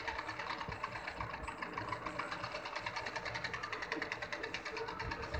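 An electric embroidery sewing machine, driven by a motor mounted beneath it, runs in a steady, fast mechanical chatter, close but quiet and uninterrupted.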